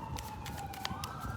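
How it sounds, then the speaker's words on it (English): Ambulance and police car sirens wail in the distance, a thin rising-and-falling tone running steadily beneath faint background noise. "got some sirens. Got an ambulance and a cop car"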